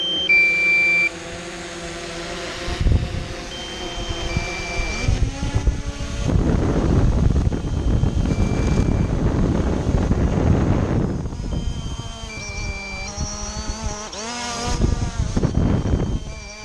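A small drone hums as its propellers carry it back toward the home point on low battery over the woods, with short electronic beeps and gusts of wind buffeting the microphone.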